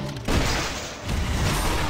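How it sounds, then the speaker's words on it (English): A big explosion in the video game Torchlight 2 lands as a loud, sudden boom, a short thud followed by a rumbling blast that hangs on to the end. "That was a big explosion."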